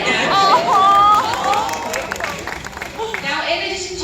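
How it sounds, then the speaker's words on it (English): Audience applause and cheering at a zoo sea lion show, a steady crowd wash of clapping and chatter over about four seconds, with a whistle-like tone early on. "Round of applause for the big guy."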